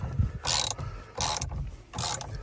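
A ratchet loosens the tight steering wheel bolt on a 2022 Honda Civic, giving three short bursts of rapid clicking, close and fairly quiet, separated by brief pauses.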